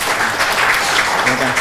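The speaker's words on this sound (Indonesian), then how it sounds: "kita berikan tepuk tangan" Audience applause at a Partai Ummat integrity declaration signing ceremony with KPK officials, a dense steady patter of clapping with a faint voice underneath.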